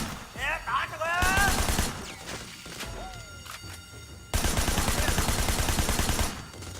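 Rapid bursts of gunfire in the open-world crime game Sleeping Dogs, with loud automatic volleys separated by quieter gaps and voices talking in between.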